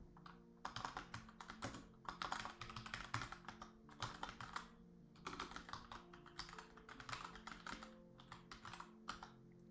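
Steady typing on a computer keyboard while entering account credentials, a quick run of close, crisp key clicks in bursts with brief pauses, no talking.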